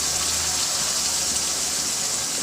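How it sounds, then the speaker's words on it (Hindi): Half a glass of water pours into a pan of fried potato, cauliflower and pea curry, giving a continuous close rushing gush that holds steady for a couple of seconds. "और इसमें हम आधा गिलास पानी डाल देंगे।"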